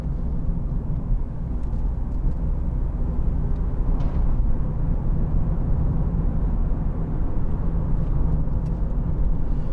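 Steady, loud road and engine noise from inside a 2019 Mazda MX-5 convertible, 184ps Sport Nav+ manual, cruising on a road, a constant low rumble with no talking.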